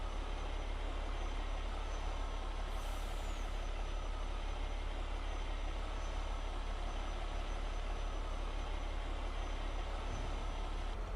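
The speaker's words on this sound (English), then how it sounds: "And hopefully when this is full, that truck should head off" A sugarcane haulage truck rumbles steadily in a cane field while waiting to be filled at harvest, a continuous low engine drone with faint machinery around it and no talk.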